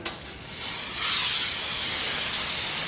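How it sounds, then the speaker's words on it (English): Brake cleaner hisses from an aerosol can onto a brake rotor during a front brake replacement on a rusty 2009–2015 Honda Pilot, a close, loud spray that swells for about a second and then tails into a steady hiss. "Spray a nice little thing of brake clean"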